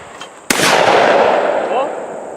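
A single loud, sharp shotgun blast from an over-under fired at a clay target, with a long rolling echo trailing off outdoors.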